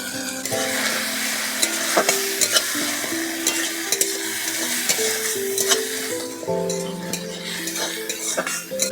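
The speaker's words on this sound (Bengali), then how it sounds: "পেঁয়াজ আর টমেটোটা ভাজা ভাজা হয়ে গেছে এখন আমি দিয়ে দেবো এই বেটে রাখা চালমগজ ধনে জিরে আর লঙ্কা" A paste of ground melon seed, coriander, cumin and chilli sizzles in a pan with fried onion and tomato, while a utensil scrapes and clinks against the pan in steady stirring strokes.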